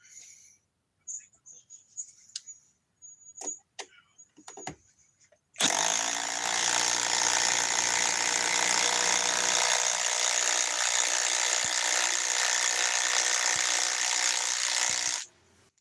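A power tool drives a big 6 inch bit, starting abruptly after scattered clicks and handling noise and running loud and steady for about ten seconds before cutting off.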